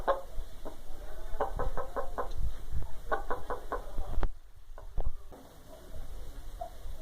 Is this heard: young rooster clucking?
yes